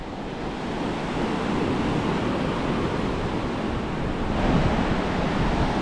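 Steady roar of ocean surf on Diani Beach, Kenya, with a wash of wind, continuous and fairly loud; no distinct birdsong stands out.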